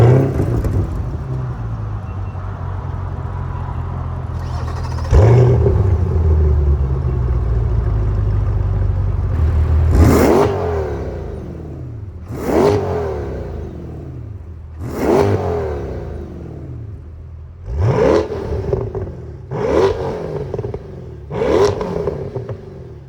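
A Chevrolet Corvette C8 Grand Sport engine starts with a loud roar and settles into idle, followed by six sharp revs that climb and fall back, close and loud, with no voices.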